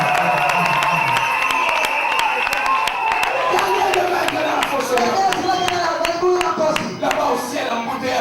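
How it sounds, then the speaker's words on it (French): A church congregation shouting and cheering for joy, a dense continuous crowd roar with scattered claps that stays loud throughout, overlapping voices filling the space. "Donnez à Dieu des cris de joie."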